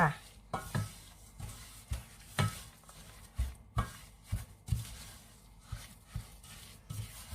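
Stirring the filling mixture for Mohnschnecken snail puff pastries, rhythmic scraping and knocking strokes of a utensil against a bowl, close and moderately quiet, repeating about every half second.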